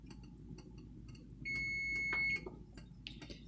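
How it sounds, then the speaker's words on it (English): A kitchen timer goes off during home cooking of a family meal, giving one steady high electronic beep of about a second over a low background hum. "Okay, we got the timer going off."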